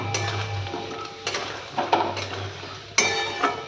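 A spatula stirs and sautés ingredients with turmeric in a pan, making scraping strokes, light metallic clinks and a faint sizzle, close up with no talking.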